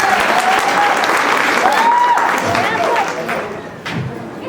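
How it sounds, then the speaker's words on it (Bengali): A stage audience claps loudly for a couple during a Christmas event, dense sustained applause with crowd noise and a voice over it, fading slightly toward the end. "তাদের জন্য জোরে আরেকবার করতালি দিই আমরা"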